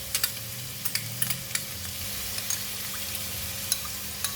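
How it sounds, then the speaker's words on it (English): Pickled vegetable tossed into a frying pan with meat while stir-frying rice pin noodles: a steady low sizzle with scattered light clicks and scrapes of a spatula, close and fairly quiet. "I'm adding in the pickled vegetable"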